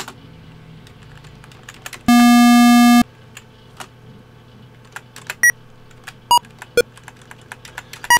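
Atari Super Breakout game sounds: a loud, sustained buzzy electronic tone lasting about a second, then scattered short, sharp bleeps and clicks over a quiet background.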